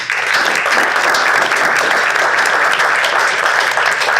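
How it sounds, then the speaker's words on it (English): A seated conference audience applauds a panel of speakers, a steady, dense wash of many hands clapping at full volume throughout, with no talk over it. "let's get a nice round of applause for our panel."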